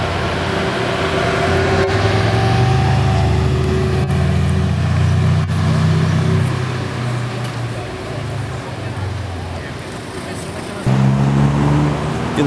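A rare Plymouth Prowler rolls by at a car meet on a city square, its engine note rising and falling as it passes close over steady traffic and crowd murmur, with a second car pass near the end.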